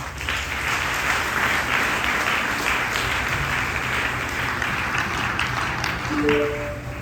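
Students give a big round of applause at a school mental health week celebration, continuous dense clapping that holds steady throughout.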